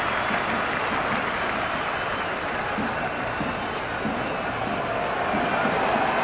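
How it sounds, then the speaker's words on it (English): A stadium crowd in the cricket game Cricket 26 roars and applauds continuously, a dense, steady wash of cheering and clapping at a constant level with no breaks. "It's evident and ever so audible that the crowd is at near bursting point at today's play."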